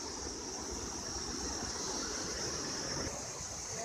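The Modi River near Ghandruk rushes in a steady, unbroken roar of flowing water that fills the scene at an even level, with no voices.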